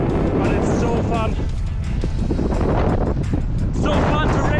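Strong wind of around 25 knots, gusting higher, roars steadily across the microphone during windsurf World Cup racing at Sylt, a loud continuous buffeting rush with faint water noise and no clear talk.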